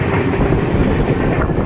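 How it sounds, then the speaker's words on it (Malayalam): Passenger train running along the rails near Thiruvalla station in Kerala, a loud, close, continuous rumble with rhythmic clatter from the wheels. "നമ്മുടെ വന്ന ആ ട്രെയിന് വിട്ടുപോകുന്ന കാഴ്ചയാണ് ഈ കാണുന്നത്."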